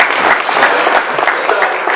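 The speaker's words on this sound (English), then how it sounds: "Let's give a round of applause for Mark and his staff for putting this together." An audience at a panel session applauding together in a dense, steady burst of clapping that carries on at full strength through the moment.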